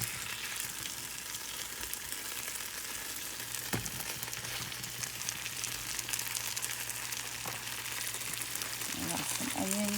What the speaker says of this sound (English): I'm going to fry them up because I have all boys, so they like them crispy and fried